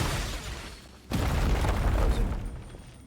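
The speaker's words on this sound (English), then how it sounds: "A geo explosion that opened a cave, revealed a hidden item and a secret passage to the surface above the ruin golem." Geo explosion in Genshin Impact blasting open a cave: a quiet rumbling lead-in, then a sudden deep boom about a second in, followed by a loud crumbling roar that slowly fades.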